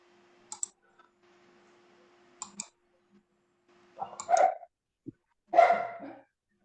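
A dog barks a few times, fairly near and moderately loud, in short bursts separated by quiet, with a couple of faint clicks at the start and no talk.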